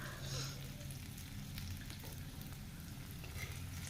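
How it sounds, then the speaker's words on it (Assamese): Fresh bay leaves and onion frying in hot oil make a soft, continuous sizzle with faint crackles, quiet and steady throughout, with no voices. "গৰম হোৱাৰ লগে লগে দেখিছে নহয়, তেজপাত আৰু পিঁয়াজ দি দিলোঁ।"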